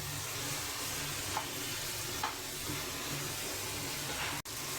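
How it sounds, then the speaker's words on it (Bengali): Green chilies tossed into hot oil in a frying pan during home cooking, a steady dense sizzle and hiss with a few soft stirring scrapes, then a brief dropout near the end. "এখন কয়টা কাঁচামরিচ দিয়ে দেবো আমি।"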